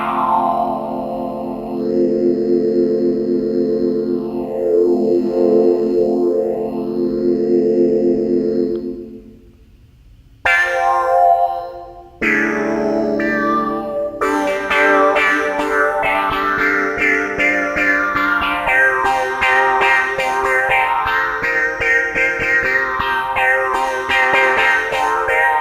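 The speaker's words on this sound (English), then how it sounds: "And then finally, let's hear the phaser." Synthstrom Deluge groovebox synth pattern run through its phaser effect, with loud sweeping notch patterns rising and falling across sustained chords, a brief dropout near ten seconds, then choppy stabs before the swirling phased sound returns and continues.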